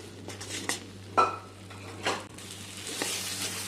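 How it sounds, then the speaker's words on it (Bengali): Peanut paste with green chili fries in a pan while a utensil stirs it, giving soft scrapes and a few sharper knocks against the metal over a quiet sizzle. "আবারও ভালো করে আমি এটা নাড়াচাড়া করে নেব।"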